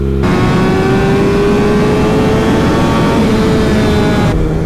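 A loud liter-bike motorcycle engine drones steadily with rising pitch, heard up close while riding, with constant wind rush and no talking.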